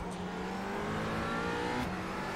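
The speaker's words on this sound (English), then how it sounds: "Car sounds good from the outside." McLaren 570S GT4 engine in the iRacing sim, droning steadily near full revs with a brief dip and pitch change, heard loud and continuous without talk for a couple of seconds.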